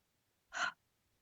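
A single short breath, soft and breathy, rising and fading in about a quarter second, surrounded by near silence.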